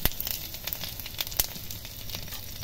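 Ginger-garlic paste and gram flour sizzle softly in a hot pan while cooking a papaya dish, giving a steady quiet crackle broken by scattered sharper pops.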